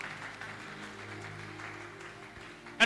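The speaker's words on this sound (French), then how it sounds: "On acclame très fort la parole de Dieu." A church congregation at a Sunday service applauding, a steady spread of clapping from many hands at moderate volume, with a faint sustained tone beneath and a brief louder burst at the end.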